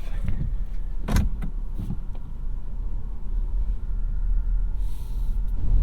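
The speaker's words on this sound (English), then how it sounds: "let's go for a drive" A 2022 Volkswagen Tiguan with a 2-liter turbocharged inline-4 moves off, heard from inside as a steady low road and engine rumble with a couple of brief interior clicks.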